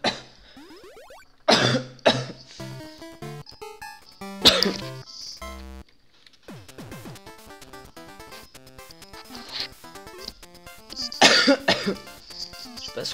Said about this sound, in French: Je viens de tousser 4 fois de suite.